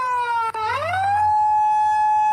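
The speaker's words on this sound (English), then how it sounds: "Yeah, that siren is pretty" A Japanese police Nissan GTR siren in a video game wails loudly and close, a tone sweeping downward then rising again to a steady high pitch, with a brief dropout early on.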